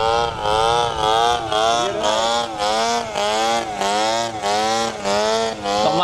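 A TU 26 glow engine on an RC trainer plane drones loud and steady at throttle, its buzzing whine rising and dipping in rhythmic pulses as it flies past, with no talk.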